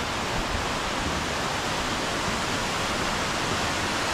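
A waterfall rushes with a dense, unbroken roar along a winter mountain trail on Samaksan, the steady white wash of falling water filling the whole moment at a constant, fairly loud level.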